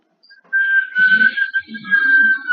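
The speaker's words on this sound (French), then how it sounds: "Arrête de siffler." A person whistles a wavering, sustained tune close by, the pitch sliding and holding over about two seconds, with faint background murmurs.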